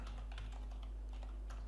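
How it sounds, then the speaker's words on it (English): Rapid typing of a git command on a computer keyboard, a quick run of close, crisp key clicks over a strong steady low electrical hum. "We could do that with typing git branch"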